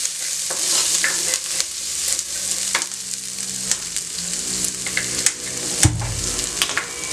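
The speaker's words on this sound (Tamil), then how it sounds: "வெங்காயம் எல்லாமே நல்லா பொண்ணு வறுவலாக வறுத்துக்கணுங்க." Onions fry with curry leaves in hot oil for a Tamil fish curry, a steady close sizzle with occasional stirring scrapes and clinks, no talk.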